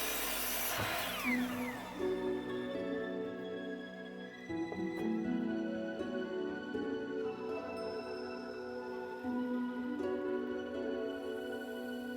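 Wood pieces are cut to length with a power saw for a DIY aquarium stand, with a sustained whining cut that starts sharply, dips midway and carries on steadily at close range.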